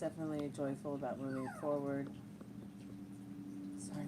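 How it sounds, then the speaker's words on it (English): A dog whimpers and yips in a series of high, wavering whines over the first two seconds, close by, while a person keeps talking underneath and afterward. "Sorry about the dog."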